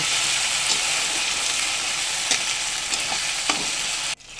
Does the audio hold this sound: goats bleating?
no